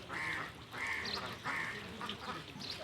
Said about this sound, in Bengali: সব হাঁসেরা ভিড় জমায় এখানে